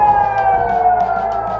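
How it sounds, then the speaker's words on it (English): A loud air raid siren in Israel wails steadily during a missile attack, its tone sliding slowly downward, with a low rumble beneath. "sirens began blaring in southern, central, as well as northern Israel"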